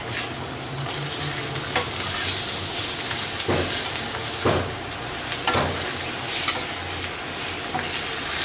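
Food frying in oil in a flat pan on a stove while cooking lentils with bottle gourd: a steady, close sizzle runs throughout, broken by a few sharp stirring scrapes.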